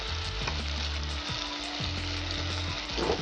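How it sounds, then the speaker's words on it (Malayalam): Karimeen fish curry ingredients sauté in hot oil with a steady, loud sizzle, while a spoon stirs through the pan at intervals, scraping and clacking close by. "കുറച്ചു നേരം നന്നായി ഇളക്കി നന്നായി വഴറ്റുക"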